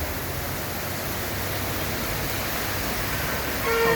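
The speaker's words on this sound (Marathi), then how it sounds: "जालन्याला सध्या असा पाऊस पडत आहे, मुसळधार पाऊस येतोय जालन्याला" Heavy monsoon downpour in Jalna during flooding, a dense, steady broadband hiss of pouring rain that stays loud and constant throughout, swelling slightly at the end, with no voices.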